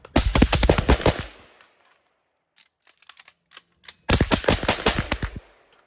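Rapid volleys of close, loud rifle shots from .22 and 5.56 rifles on a shooting range, two dense bursts of quick repeated cracks separated by a gap holding a few scattered single shots.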